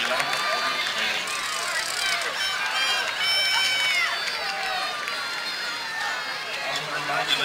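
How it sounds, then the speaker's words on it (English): A stadium crowd fills the space with sustained applause and cheering, a dense, steady roar with scattered whistles and shouts layered throughout. "How about a big round of applause for all of our sponsors at the Aguilar Memorial Stadium"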